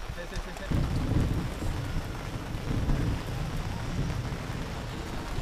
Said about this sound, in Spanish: La lluvia pasajera se terminó pronto